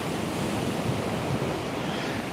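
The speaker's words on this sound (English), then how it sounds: "We've got quite a bit of rolling waves coming in." Rolling ocean waves coming in at a surf break, a loud, dense and steady roar of breaking water and wind with no voices over it.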